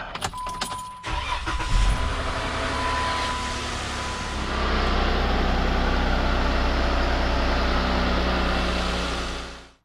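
A Jeep JKU engine cranks with a short rattling churn, then catches and settles into a loud, steady idle that swells partway through and holds close by, with no talking.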